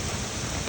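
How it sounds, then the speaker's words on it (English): Heavy rain pours down during a summer thunderstorm in New York, a dense, loud and steady wash of droplets filling the whole brief moment without any voices. "Wow, the rain is so cool."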